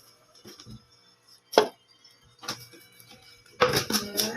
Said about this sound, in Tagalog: Hiwa tayo ng kamatis. And then, sibuyas.